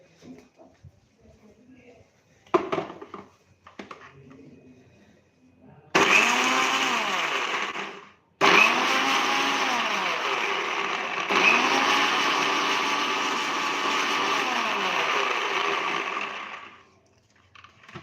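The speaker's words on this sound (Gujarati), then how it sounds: "હવે આપણે મિક્સર જારમાં પેસ્ટ બનાવી લેશું" A kitchen mixer grinder whirs in bursts as its jar blends a spice paste with a little water, a loud steady whine running several seconds, stopping briefly, then starting again, with quiet sounds before it begins.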